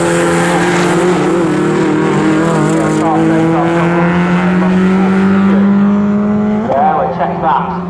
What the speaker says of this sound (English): cars heading down towards Brundle then